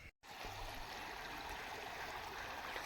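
Water flows steadily through a small stream or channel beside a village orchard, a constant close rushing trickle that holds at an even level after a very brief silence at the start.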